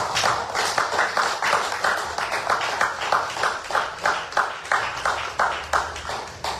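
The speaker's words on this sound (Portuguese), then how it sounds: "As palmas para o Senhor Jesus" A church congregation claps for the Lord Jesus in a steady, even rhythm. The many hands blend into a continuous pulse of claps that keeps going throughout.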